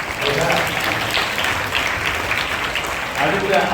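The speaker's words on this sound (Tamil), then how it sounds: "இதுக்கு நிச்சயமா நீங்க கரகோஷம் கொடுக்கலாம்னு நினைக்கிறேன்." Sustained crowd applause, dense and steady for several seconds, with a few voices mixed into the clapping.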